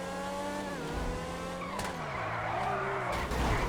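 Grotti X80 Proto supercar in GTA V braking hard, giving a long tire screech with falling engine revs, loud and steady throughout.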